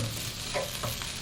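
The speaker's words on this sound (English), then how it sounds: "we'll just let that sizzle for a little bit" Chickpeas with tomatoes, cilantro and turmeric sizzle steadily in a hot pan, a close, continuous crackling hiss with a few soft stirring scrapes.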